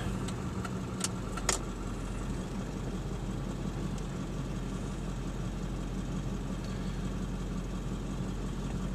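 A 2002 Ford 7.3L Powerstroke diesel truck with a CNG conversion idles outdoors, a steady low engine rumble with a couple of brief metallic clicks early on.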